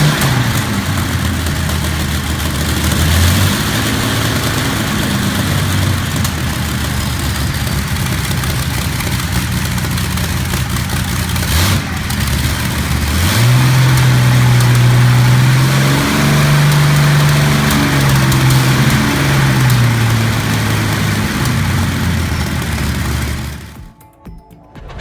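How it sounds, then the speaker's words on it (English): A Rolls-Royce Merlin 38 aircraft engine of 2,400 horsepower runs loud and close, its deep steady drone swelling into a stronger roaring surge midway before cutting off abruptly at the end. "Rolls-Royce Merlin. 38 comes alive with thunderous bursts, gradually climbing to full speed."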